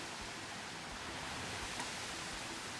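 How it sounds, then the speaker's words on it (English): A waterfall in the Planet Coaster 2 video game gives off a steady, even rush of water that fills the whole moment without pause. "Okay, so the waterfall is smaller than I thought it would be."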